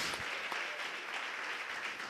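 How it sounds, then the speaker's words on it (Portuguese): A church congregation applauds together in sustained, fairly soft clapping that holds steady throughout, with no voices on top. "Você pode aplaudir o nome do Senhor."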